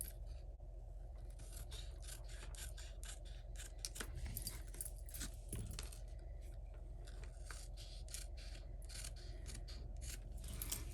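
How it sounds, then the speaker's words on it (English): Quiet, repeated snipping and rubbing of scissors cutting paper, steady small clicks and scrapes at close range with no talking. "let's go ahead and get some scissors and trim this up"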